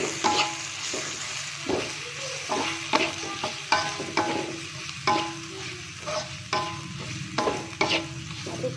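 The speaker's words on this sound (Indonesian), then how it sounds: "Aduk-aduk sampai kering dan wangi ya." Spices are stirred in a hot frying pan for opor ayam, with a spatula scraping in repeated strokes about once a second over a soft, steady sizzle.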